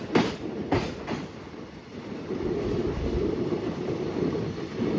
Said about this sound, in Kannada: ನಮ್ಮ ಟ್ರೈನ್ ಅಂತೂ ಹಾವ್ ತರ ಕ್ರಾಸ್ ಮಾಡ್ತಾನೆ ಇದೆ, ಆ ಕಡೆ ಈ ಕಡೆ ಆ ಕಡೆ ಈ ಕಡೆ ಅಂತ.